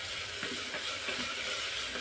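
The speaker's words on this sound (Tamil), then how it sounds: "எண்ணெயிலே நல்லா வெங்காயம் வதங்கி வரணும்." Onions frying in oil while a vegetable kurma is cooked, giving a steady, close, bright sizzle that stays even for the whole stretch with no voices.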